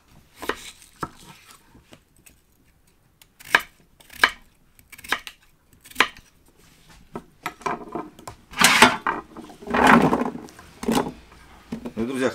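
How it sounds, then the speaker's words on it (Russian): Potatoes being chopped into small pieces for Georgian ojakhuri: sharp knife strikes on a board, sparse and irregular at first, then a quicker, louder flurry of cuts toward the end. "картошку нарезаем также небольшими кусочками"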